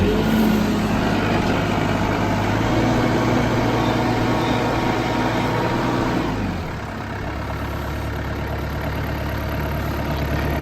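A Case IH DX55 compact tractor engine idles steadily after start-up, a loud continuous low rumble that drops slightly in level and pitch partway through, with no talk over it.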